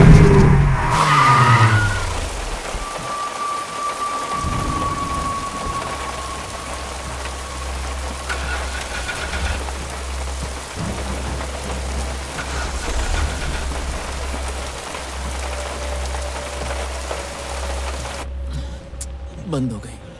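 Heavy rain pours steadily in a forest, with low rumbling thunder beneath and a brief whine near the start; a muffled lull comes near the end.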